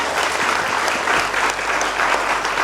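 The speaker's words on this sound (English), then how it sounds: "let's give them all a big round of applause" An audience applauds at a Women of the Year ceremony, steady dense clapping from a crowd filling the whole stretch without pause or voices.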